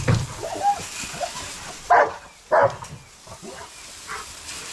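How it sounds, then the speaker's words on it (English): Dogs in kennels barking at one another, with a few loud, separate barks and yips spread across a quieter background of shuffling and low noise. "They like to bark at one another."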